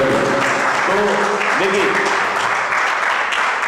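Loud, continuous applause fills the hall at a de-addiction class, with a voice speaking over the clapping.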